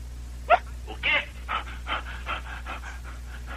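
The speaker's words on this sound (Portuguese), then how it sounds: "Por que está respirando tão forte?" Heavy, rhythmic panting breaths heard over a telephone line, a steady series of audible exhalations against a low hum, with no clear talk.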